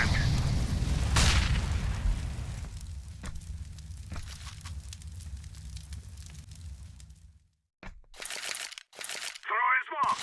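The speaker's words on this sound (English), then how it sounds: "Throwing smoke. Throwing smoke. Throwing a flashbang. Incendiary out. Grenade out. Grenade." Smoke grenades, a flashbang and an incendiary thrown in the video game CS:GO during a pro match: a loud burst and hissing, crackling blasts over a low rumble, then a sudden drop and sharp clipped bursts near the end, with chatter underneath.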